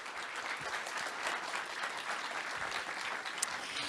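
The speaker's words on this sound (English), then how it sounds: "Let's give a nice round of applause for our launch team here." A NASA audience applauds the launch team at the Parker Solar Probe launch, a sustained, dense round of clapping heard clearly with no talking.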